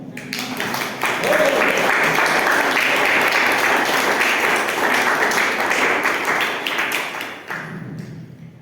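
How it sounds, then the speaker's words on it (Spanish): A church congregation breaks into sustained applause during a lively worship service, loud and dense for most of the stretch, with voices cheering and speaking over the clapping before it thins out near the end. "Denle un aplauso al Señor."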